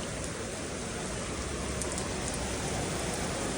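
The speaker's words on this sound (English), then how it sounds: "Got the thunder, and you got the downpour." Heavy summer thunderstorm rain pours down on a New York City street in a dense, steady hiss with no pauses and no voices.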